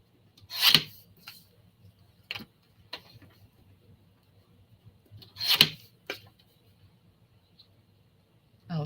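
A photo is trimmed for a scrapbook page, producing close, quiet scraping and snipping sounds in two short bursts separated by a few soft ticks, with no talking.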